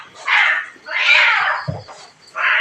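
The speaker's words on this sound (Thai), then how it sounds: "แมวกวนกันทำไม" Cats meowing and yowling as they squabble near a temple yard where chickens roost, with several loud drawn-out cries close by and a short low thump between them.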